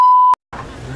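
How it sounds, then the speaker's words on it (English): A single steady electronic censor bleep sounds loud and clear for about a third of a second, followed by a short silence and then a voice speaking. "I have to get the bleep sound effect."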